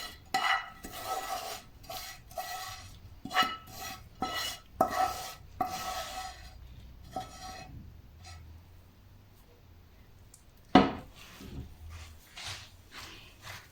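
A spoon scrapes and presses a sesame sweet mixture evenly across a pan greased with butter or oil, giving irregular close scraping strokes and light taps, with one sharper knock near the end and no talking.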